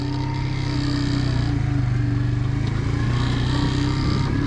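A fuel-injected Barton 50cc motorcycle engine runs smoothly at a steady idle close by, with an even, pulsing hum and no talk over it.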